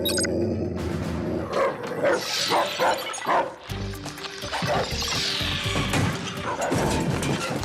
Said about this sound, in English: Canines, that is quite enough.